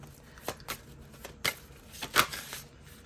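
Oracle card deck being shuffled by hand, a series of crisp separate card snaps and riffles at uneven intervals, close and quiet with no voices.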